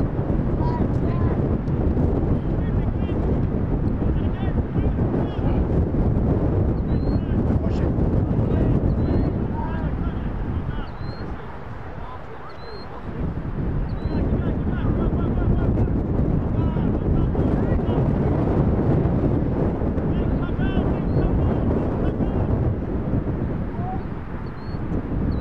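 Strong wind buffets the microphone outdoors at a sports match, a loud, constant rumbling roar that eases briefly midway before surging back, with faint voices beneath.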